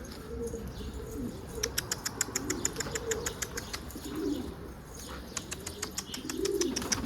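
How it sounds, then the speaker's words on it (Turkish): Outdoors, a pigeon bursts into flight with a rapid series of crisp wing claps, followed by further bouts of flapping, while soft low cooing carries in the background. "O kuş kalktı kalktı."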